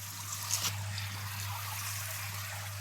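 Water trickles and splashes steadily into a koi pond, faint and constant beneath a low pump hum.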